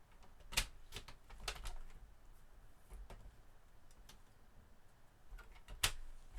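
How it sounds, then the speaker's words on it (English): Handheld paper trimmer slicing through a strip of paper for a card, a few sharp close clicks and brief swishes at the start and near the end, separated by quiet room tone. "I'm going to bring my trimmer back in."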